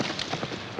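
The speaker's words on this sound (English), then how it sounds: "Get a horse ready." A horse's hooves clip-clop in a quick, close run of thuds amid busy, noisy surroundings at a military post.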